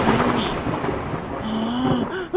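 Loud, continuous rumbling thunder from a summer storm, with a sustained low roar and a harsher swell near the end.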